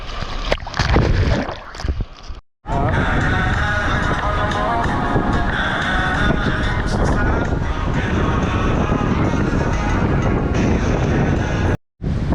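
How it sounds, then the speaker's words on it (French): Strong wind buffets loudly and continuously at Diamant beach, Martinique, roaring across the microphone with some rushing water beneath it. "plage du Diamant, c'est quand même hyper exposé hein, au vent"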